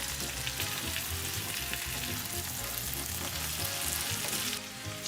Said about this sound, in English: So you got all that frying up. You let it fry for a bit.